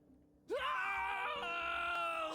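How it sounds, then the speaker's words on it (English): Two brothers collapse and scream in a street; a sudden loud, sustained harmonic wail or scream starts after half a second of quiet and holds steady and close to the end, with no talk. "The brothers collapse and scream."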